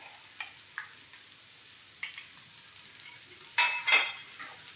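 A spoon stirs tomato chutney with kasuri methi in a pan, giving soft scraping strokes over a faint sizzle, with a few clinks of metal on the pan near the end.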